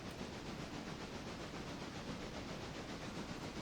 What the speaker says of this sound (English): Safety pop-off valve noises.